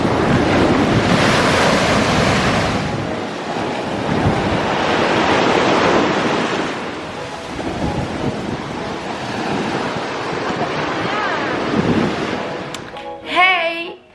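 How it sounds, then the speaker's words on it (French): Big ocean waves roll in and break on the shore as heavy surges of surf, loud and close, with constant wind rumbling across the microphone and the rush of water swelling and fading over and over. "c'est extrêmement dangereux parce qu'il y a des gros rouleaux"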